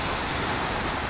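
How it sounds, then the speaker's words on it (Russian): Sea waves roll in off a small island near Phuket, Thailand, in the low season with fairly big swell, giving a steady, loud broadband wash of surf with no voices. "волны немного большие"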